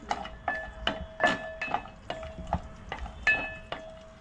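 Konkan cashews roasting in ghee in a pan for carrot halwa, with repeated light stirring scrapes and clinks at an irregular rhythm over a soft sizzle, close and moderately quiet.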